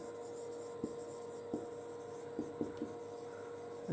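Chalk strokes and taps from a teacher writing on a board during a physics class, a few soft, scattered knocks over a steady faint room hiss, with no voices.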